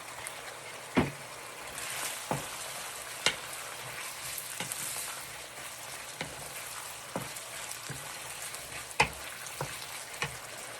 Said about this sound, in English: I'm gonna let it boil for a few minutes. I'm gonna add a little bit of soy sauce